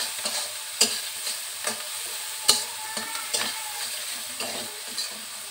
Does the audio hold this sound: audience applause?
no